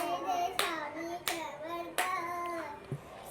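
A young girl sings a devotional Ganpati song at a family celebration and claps her hands along. Three sharp, close claps land about every two-thirds of a second over her high, sustained singing voice.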